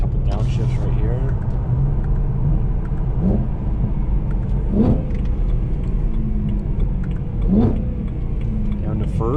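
A 2011 BMW E90 M3 downshifting, with brief engine blips rising at each gear change over a steady low cabin rumble while a person talks over it.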